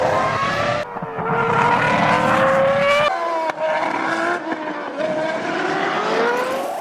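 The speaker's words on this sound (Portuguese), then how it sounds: "Repara no barulho do carro quando o piloto está indo no acelerador, uma espécie de sopro, um prrr" A Formula 1 car accelerating hard with traction control cutting in, its engine note rising and falling in loud, continuous high-revving sweeps with a slight breathy stutter, with no voices over it.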